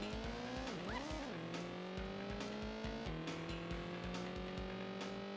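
Car racing in a 3DO video game, loud game audio of a revving engine climbing and dropping through gear changes with tire squeals and a steady pulsing drone, no talking.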